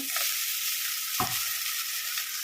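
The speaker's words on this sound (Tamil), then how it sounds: "இப்போ நம்ம இதில் வந்து சாதத்தை போட்டு இந்த பொடியும் போட்டு" Cooked rice and spice powder stirred together in a hot frying pan, a steady close sizzle with a few scraping strokes of a spoon, no talk.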